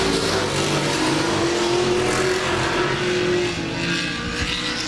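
Several race cars thunder past on the Laird Raceway oval during a Thursday night race, a loud continuous engine roar with a steady pitched whine that eases slightly near the end.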